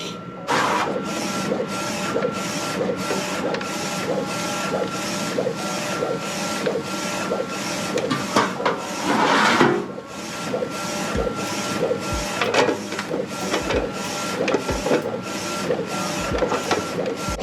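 An Omniprint DTF printer running a print job, with a steady mechanical whir and regular rhythmic carriage passes and clicks repeating throughout, close and loud with no talking.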